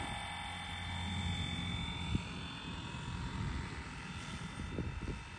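A radio-controlled helicopter with a tail motor flies forward, giving a fairly faint, steady whirring whine with a low buzzing hum and a few small knocks underneath.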